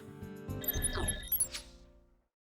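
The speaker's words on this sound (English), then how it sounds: "I'm not gonna answer the phone." A telephone rings in a Chrono Cross game, a single short electronic ring burst that fades out after about two seconds.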